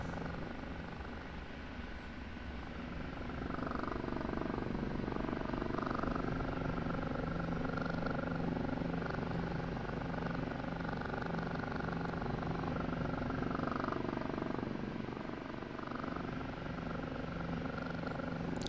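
Rotor drone of an OH-58D Kiowa Warrior helicopter simulated in the DCS flight game, a steady layered hum with a low thrum that rises slightly in level and holds throughout, heard alone at moderate loudness.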